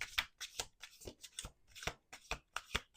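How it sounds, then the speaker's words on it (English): Tarot cards being shuffled by hand, a quiet close series of quick papery riffles and taps in an irregular rhythm, with no talking. "Let's do two more shuffles."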